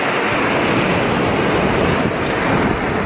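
Rough ocean waves wash in at a beach in Pohang, giving a loud, unbroken rush of surf mixed with wind noise on the microphone, with no talking.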